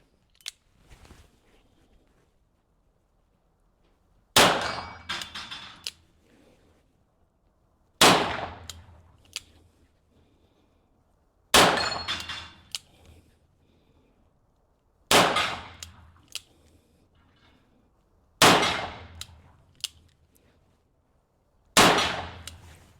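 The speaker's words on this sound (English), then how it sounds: "I'm just going to fire a few down the range and see if I can hit any gongs." Gunshots on a shooting range striking steel gongs, six sharp loud reports spaced a few seconds apart, each followed by a brief metallic ring, with quiet gaps between and no talking.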